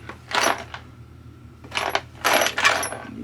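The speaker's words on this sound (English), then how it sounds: "I'll be fishing around for bolts as I go" Metal bolts clink and rattle as a hand rummages through a pile, small bursts of jangling contact separated by short pauses, close and fairly quiet.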